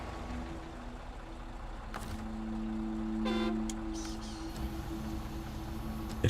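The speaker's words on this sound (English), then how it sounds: "I honked the horn and the Voron squeaked at me" A truck's horn honks in the SnowRunner driving game, a sustained tonal blast from a Voron truck over a steady engine rumble, sounding fairly close and moderately loud, with no talk.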